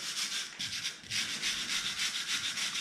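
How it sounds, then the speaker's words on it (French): A brush scrubbing lime mortar joints between stones, close, steady raspy strokes in a quick back-and-forth rhythm with a brief pause midway. "je vais rebrosser comme il faut"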